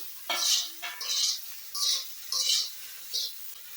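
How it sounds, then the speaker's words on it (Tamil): Paneer cubes being stirred and fried in a metal kadai, with repeated scraping strokes of a spatula against the pan in short bursts, close and fairly loud over a faint sizzle. "சேர்த்துட்டு நல்லா ஃப்ரை பண்ணிக்கலாம்"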